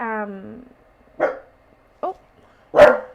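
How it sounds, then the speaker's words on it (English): A pet dog indoors barks three times, sharp close yaps spaced apart after a brief whine-like tone at the start, with quiet pauses between. "my dog's here with me and she hears a noise, so you might hear her"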